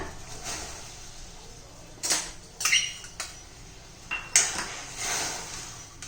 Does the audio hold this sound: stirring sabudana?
yes